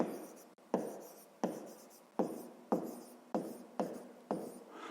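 Handwriting on paper while solving a grade 5 math problem: a steady series of seven scratchy pen strokes, each starting with a soft tap and trailing off, close and fairly quiet with no talking.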